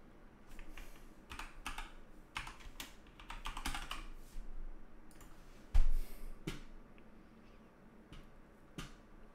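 Close, fast clatter of computer keyboard keys in uneven bursts, with a sharp louder key slap partway through and lighter taps trailing off; no talking.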